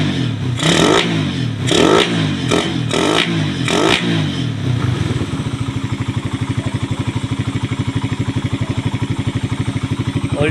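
A motorcycle engine fitted with a 28mm Keihin carburetor revs in several sharp bursts, then settles into a steady, rapid idle that throbs close by and loud, with no one talking.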